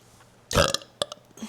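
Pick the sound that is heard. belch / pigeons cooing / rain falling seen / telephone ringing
belch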